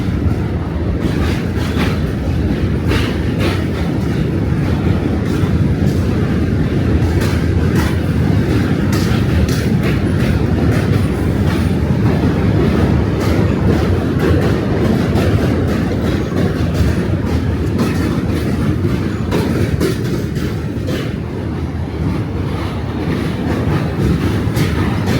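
A train rumbles loudly and continuously across a New York City bridge with track workers present, a close, dense roar of rolling wheels and rail clatter holding steady throughout.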